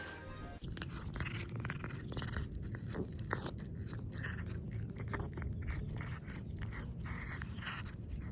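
Close, crisp crunching and tearing as an animal bites and chews grass, a steady rhythm of munching with no voices.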